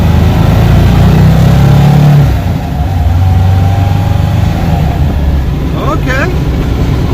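A car with a 002 transmission revs up as it winds out in first gear at about 15 mph on a neighborhood test drive. The engine drone is steady and close, eases slightly after two seconds, and a voice talks over it.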